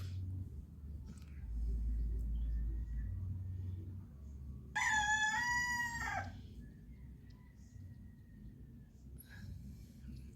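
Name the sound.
roosters crowing before dawn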